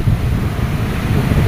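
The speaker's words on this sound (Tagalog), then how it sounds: "Ating dagat, malakas pa rin." Rough sea waves roll in a steady, loud broadband rush, heavily mixed with wind buffeting the microphone, with no voices present.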